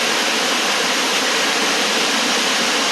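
Totas Ella waterfall at Yagirala in Kalutara District roars as a dense, constant rush of falling water close by, loud and unbroken with no voices.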